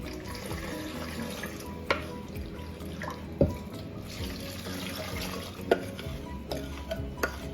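Hot water pours steadily into a jar with a splashing, running sound, punctuated by a few light clinks and knocks of glass nearby.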